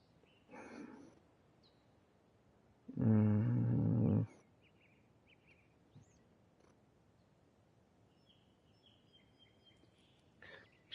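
A dog barks wildly outdoors, with a sharp burst early on, then a long, loud, harsh roaring bark that lasts about a second. Faint scattered noises and quiet gaps fill the rest.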